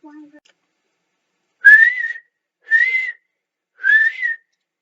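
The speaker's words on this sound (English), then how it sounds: "The guard blew his whistle until he was out of breath." A railway guard blows three short, shrill whistle blasts, evenly spaced, each a slightly wavering pitch, sounding near and alone against silence.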